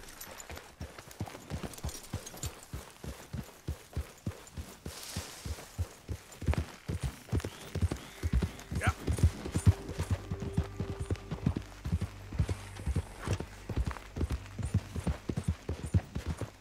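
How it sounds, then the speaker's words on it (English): A horse's hooves clip-clop steadily while being ridden in a video game, a brisk, even rhythm of close, crisp beats that continues throughout, with a low hum joining partway through. "Okay, get on the horse."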